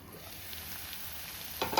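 A raw tomato mixture with coriander cooks in a pan, giving a steady close sizzle with a louder burst of crackling near the end.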